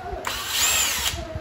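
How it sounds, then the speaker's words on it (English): Power driver with an 8mm socket spinning a screw out of a Bird 2 electric scooter; one brief, loud, close whirring burst of about a second, with no talking. "remove both of these screws, and to do that I use a 8mm socket"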